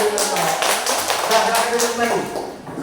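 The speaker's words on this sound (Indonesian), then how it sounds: "tepuk tangan dulu" An audience at a talk on preventing child marriage breaks into group clapping, a fairly loud burst of overlapping hand claps with rhythmic accents, alongside voices talking and calling out over it.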